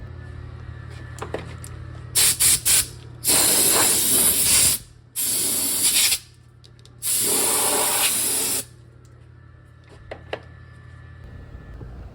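Compressed air in a shop blasts from a nozzle in several loud, hissing bursts: a few quick taps, then three longer sprays of a second or more, with a low steady hum underneath.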